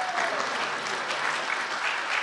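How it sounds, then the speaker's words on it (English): A conference audience at a Kansas City startup-pitch event gives a round of applause, with dense, even clapping that stays steady throughout and no talking over it. "If you could stand up and everyone give them a round of applause."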